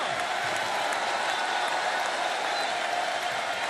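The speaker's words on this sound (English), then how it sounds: "Listen to this crowd come alive for Bandito" A wrestling video game crowd cheers for a luchador wrestler, a dense, sustained roar of applause and shouting that stays loud and even throughout, with no commentary over it.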